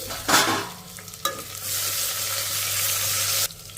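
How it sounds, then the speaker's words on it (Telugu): Dried red chillies frying over a medium flame while being stirred, a loud sustained sizzle with a couple of sharp clatters of the spoon against the pan, up close and without talk. "ఇప్పుడు ఎండుమిరపకాయని కూడా 1 నిమిషం ఇలా కలుపుకుంటూ ఫ్రై చేసేసుకోవాలి మీడియం ఫ్లేమ్లోనే"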